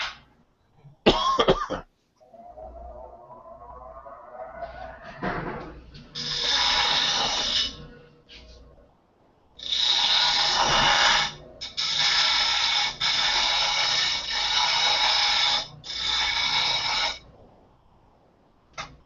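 A wood turning tool is sharpened by hand on a grinder, giving a short metallic rattle and then several long, loud rasping bursts of grinding separated by brief pauses.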